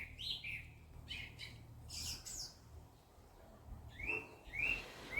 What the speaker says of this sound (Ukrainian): Ну, пташка сидить співає.